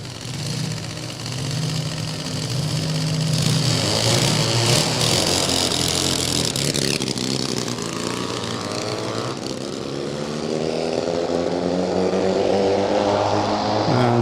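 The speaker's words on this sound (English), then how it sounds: "350 supercharged Triumph." A 350 supercharged Triumph drag racing motorcycle runs at a drag strip, its engine a loud, continuous drone that rises steadily in pitch as it accelerates away, with no voices over it.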